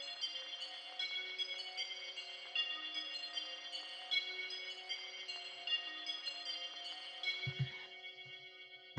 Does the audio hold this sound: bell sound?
yes